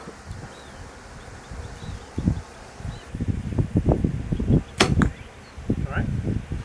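A hunting arrow loosed from a bow strikes a target during bare shaft tuning outdoors, a sharp release snap and thwack heard among low wind rumble and rustling, with light thumps around it.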